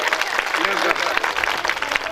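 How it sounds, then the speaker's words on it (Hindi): A crowd at a bhandara devotional gathering applauds to welcome a donor giving 21 litres of milk, with dense clapping running throughout and voices mixed in. "जोरदार तालियों से स्वागत किया जाए।"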